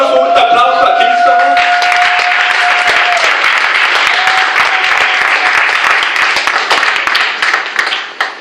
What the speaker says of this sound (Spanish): ¿Por qué no se un aplauso a Cristo?